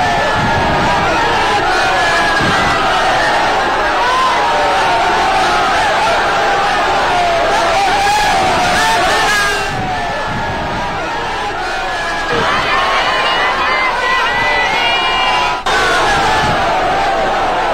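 A dense, loud crowd at a PM Narendra Modi road show in Deoghar chants and shouts slogans in a steady, continuous roar with no breaks.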